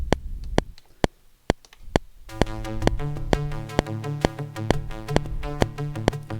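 Synth arpeggiator synced from an Electro Harmonix 22500 looper: sharp, evenly spaced click-track ticks first alone, then joined by a fast, repeating synth note pattern, steady and close with no talking.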